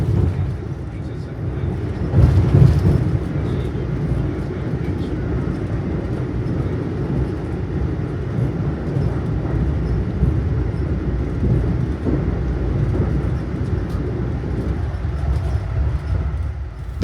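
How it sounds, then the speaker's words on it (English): Steady low rumble and rail noise fill the interior of a 1975 Amtrak Amfleet stainless steel electric passenger railcar riding the Northeast Corridor, a continuous moderate drone with a brief louder swell early on. "The car we are traveling in is Amfleet number 82564, a 1975 stainless steel railcar built for Amtrak."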